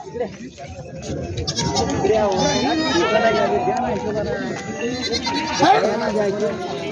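Goats bleating repeatedly at a crowded goat market in Bolda, Kalamnuri taluka, Hingoli district, several animals calling over one another amid steady crowd noise and voices talking nearby.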